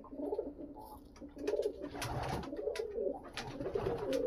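Pigeons at a fancier's loft in Bagnan, West Bengal, cooing in repeated soft, low rolling phrases close by, with light rustling and no speech.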